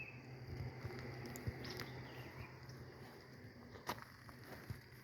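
Faint steady chirping of outdoor insects around a garden yard, a thin continuous drone with occasional soft ticks and patters in the background.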